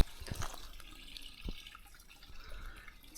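Clear, ice-cold water from a mountain spring on a hiking trail trickles and drips steadily at close range, soft and continuous with a few brighter splashes, no voices.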